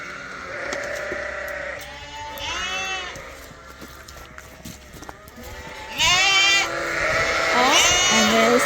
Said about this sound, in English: And there's some sheep waiting.